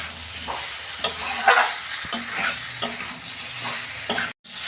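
Spicy jackfruit and shrimp curry being stir-fried in a pan makes a close, continuous sizzle, broken by sharp scraping strokes of the spoon every second or so, with no voices.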